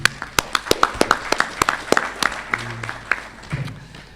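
An audience at the opening ceremony of the 63rd ACHPR ordinary session claps in sharp, distinct claps that form a moderate applause, fairly close with some murmur beneath.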